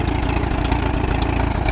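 A 1951 Case LA tractor engine idles close up with a loud, steady, even low chugging rhythm and no voices over it.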